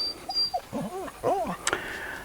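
A dog whimpers and yips close by on a riverside stretch of the River Vire in the late afternoon, giving a few short, high, wavering whines in quick succession, fairly soft.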